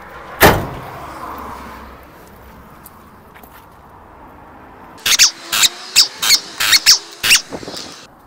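Side door of a GAZ Sobol 4x4 van shuts with one loud, close slam, followed a few seconds later by a quick series of rattling clicks and knocks.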